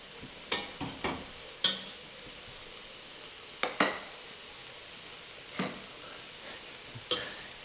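Butter sizzling in a pan of mushroom risotto, a faint steady fry broken by sharp scrapes and clinks of a spoon stirring against the pan, repeated at irregular intervals.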